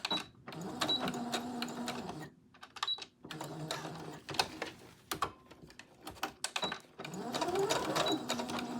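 A sewing machine stitches along both sides of a maxi skirt seam in fast, steady runs that pause and restart several times, with brief handling clicks in the gaps.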